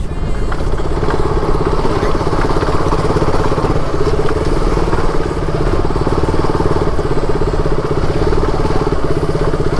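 A motorcycle engine runs steadily and loudly close by, a continuous rumbling throb with rough clattering texture and no voices over it.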